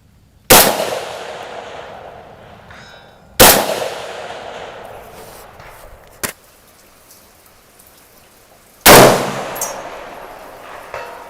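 Three loud rifle shots crack out at long intervals at a 500-yard steel target range, each blast decaying with rolling echo, with a sharp faint impact or clang between them; no talk.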